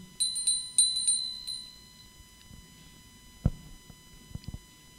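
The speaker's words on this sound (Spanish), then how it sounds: "Al toque de campana, compañeros." A small bell rung to open a meeting's meditation, struck about four times in quick succession with bright ringing tones that fade, then quiet room noise and a few soft knocks.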